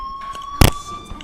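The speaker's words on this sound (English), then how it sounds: "Hey, do you hear that fire alarm?" A school fire alarm in the video game Life is Strange gives a steady electronic tone throughout, with one sharp, loud broadband bang in the middle.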